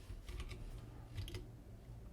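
Computer keyboard keys clicking as code is typed for iOS development, two short clustered bursts of keystrokes with a steady low hum beneath, close and moderately quiet.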